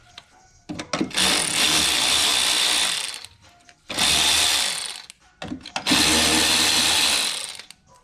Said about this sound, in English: I'm gonna use my Ingersoll ratchet, electric ratchet.